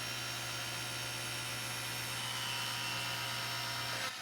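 A table saw blade runs through a wooden crosscut sled, cutting a kerf with a loud, steady whine that holds evenly for several seconds before dropping away at the end.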